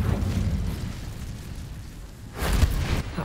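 An Incendio fire spell from Hogwarts Legacy bursts in a deep, rumbling whoosh, then fades and flares again in a second loud blast near the end.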